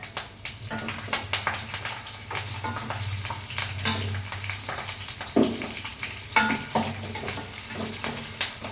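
Cumin, coriander seeds, mustard seeds, garlic, dried red chillies, curry leaves and onions sizzle in hot oil while a utensil scrapes and clinks against the pan in irregular bursts.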